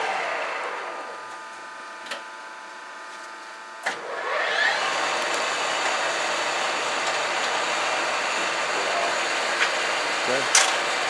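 A SIP Hydroptic-8P jig borer spins at its top horizontal speed of 1000 RPM, a steady mechanical whine and hum with tonal harmonics. It surges louder after a clunk partway through and continues with a few sharp knocks.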